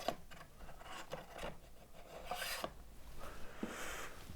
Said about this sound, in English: Now I can slide the bar into the flip stops